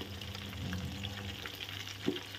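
Coconut-crusted fish frying in a non-stick wok, a steady close sizzle with a brief louder crackle near the end, no voices.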